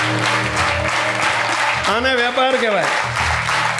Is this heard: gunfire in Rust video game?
no